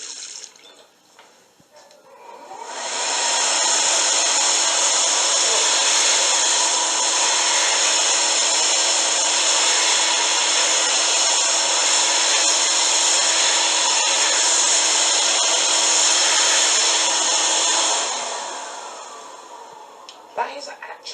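A Mitsubishi hand dryer starts up, blows with a loud, steady, hissing whine for about fifteen seconds, then winds down and stops.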